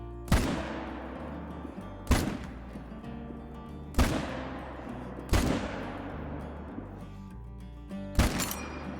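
Rifle shots in a whitetail deer-hunting video game: five loud, close blasts, each ringing out in a long decaying echo, spaced a couple of seconds apart, with the last two fired in quick succession.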